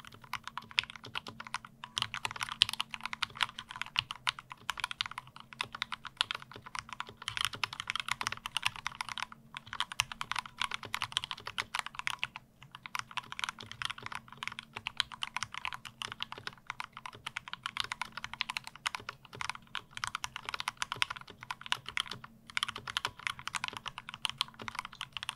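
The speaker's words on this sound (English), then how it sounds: "how does the Rama keyboard sound with those lube switches?" Continuous close typing on a RAMA M60-A mechanical keyboard with lubed switches, dense even keystrokes with deep muted clacks running throughout, no talking.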